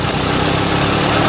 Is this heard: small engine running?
yes